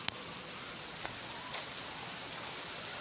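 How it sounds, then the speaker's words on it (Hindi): Steady heavy stormy rain with wind hisses across the whole stretch, with a few sharper drops and taps standing out against the dense downpour. "वो देखे और तेज बारिश हो रही है,"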